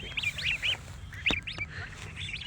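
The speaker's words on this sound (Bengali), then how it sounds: "আয়সা দেখি ভাই জায়গায় কি সুন্দর রাজহাঁসের বাচ্চা" Baby geese on a riverbank give repeated high, quacking peeps in short bursts close by, over a low steady background rumble.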